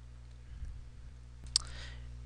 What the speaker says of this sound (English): Here we're going to click the Next button